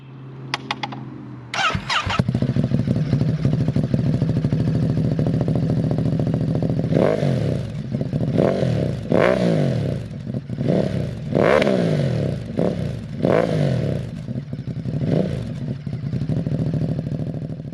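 A Ducati Monster motorcycle with a 937cc Testastretta 11-degree engine starts up close by, then idles with a rough, loud throb broken by a series of sharp revs, with no talking.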